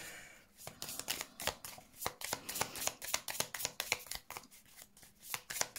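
Oracle cards shuffled by hand, a fast run of close, crisp riffling flicks and soft slaps in an uneven rhythm, fairly quiet, with no talking.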